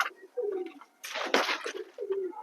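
Pigeons coo softly up close in low, throaty bursts, with a short rustling flurry in the middle, like wings flapping.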